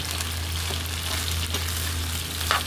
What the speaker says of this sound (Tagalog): Nagluluto tayo ng fried rice with vegetable.